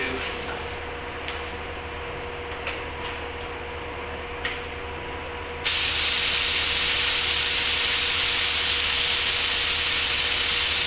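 A spray gun laying another coat of paint on a Duramax truck hood in a shop: a steady, close airy hiss that grows noticeably louder and fuller partway through, with a few faint ticks early on.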